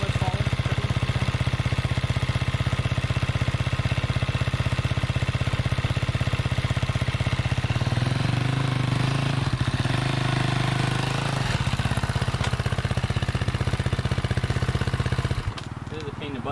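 A motorcycle crawls along at the slowest possible pace with front and rear brakes dragging, its engine idling steadily and loudly with slight throttle changes, until the sound cuts off abruptly near the end.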